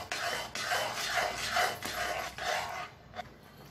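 A spoon stirs carrot halwa with ghee in a pan, producing soft, rhythmic scraping strokes that repeat about twice a second and are fairly faint, then fade out toward the end.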